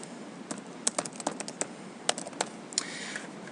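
Typing on a computer keyboard while entering text in Microsoft Word: a handful of quick, uneven key clicks in short bursts, close and moderately loud, with no talking.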